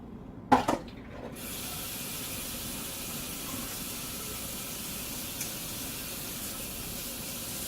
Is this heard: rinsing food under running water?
yes